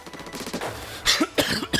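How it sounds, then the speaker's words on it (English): A persistent cough, several harsh bursts in quick succession from one person close to the microphone, with no talking. "this freaking cough, man, it's so annoying"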